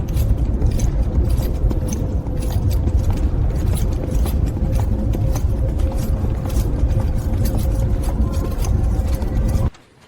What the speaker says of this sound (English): The ratchet's gentle clicks confirm even torque as the sharp edge settles perfectly flush.